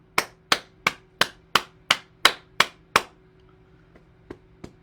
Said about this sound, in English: we start with clapping the hands to stimulate the heart